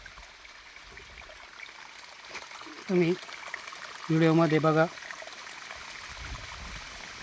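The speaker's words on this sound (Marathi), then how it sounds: "बघू शकता कसं सरीने पाणी जातं आहे" Irrigation water flows along a furrow in a sugarcane field, a soft steady trickle and rush running beneath a voice.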